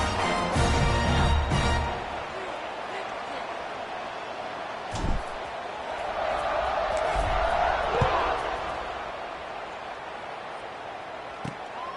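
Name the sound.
football stadium crowd cheering at kickoff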